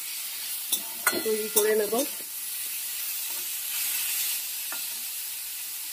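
Boiled arum stalks with salt and turmeric frying in a pan on low heat, a steady soft sizzle with a few stirring scrapes, briefly under a voice near the start.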